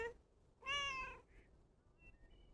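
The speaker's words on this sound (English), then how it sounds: "I wonder how she survives in there with all those cats." A cat lets out one clear, drawn-out meow close by, followed by a fainter short chirp and some thin high squeaks in a quiet room.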